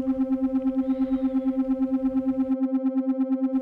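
A steady synthesized tone pulses with a smooth, regular triangle-wave LFO wobble about eight times a second, holding one pitch throughout, no voices.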